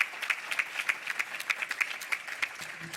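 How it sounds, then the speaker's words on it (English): Conference audience claps for sponsors at a university HR advisory board event, a fairly faint, sparse applause with distinct individual claps spaced through the clip. "let's have a nice round of applause for our sponsors"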